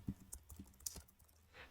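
Typing on a computer keyboard: a short run of soft, irregular key clicks, faint and close, with no talking.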